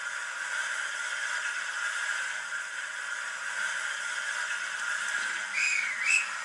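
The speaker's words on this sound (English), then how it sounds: "we'll do the guard's whistle" A train guard's whistle sound effect gives a steady, thin, shrill tone that holds for several seconds at a moderate level over faint hiss, then wavers briefly near the end.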